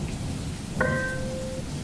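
Steady rain hisses on a surface outdoors near a roadside vegetable cart, a soft continuous wash with one brief tonal chime partway through.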